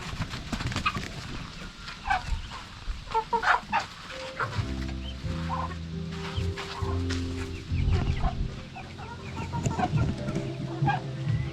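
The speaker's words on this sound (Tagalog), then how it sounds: "Ngayon lang baka itong mga manok ang lumabas." Chickens clucking on a farm where ducklings are also kept, repeated short clucks scattered over about twelve seconds with a steady low background hum, moderately close.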